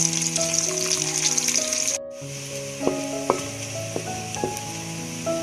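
Sliced onions fry in a pan of oil toward light brown, giving a loud, steady sizzling hiss with a brief dip partway through and soft stirring scrapes, while background music plays throughout.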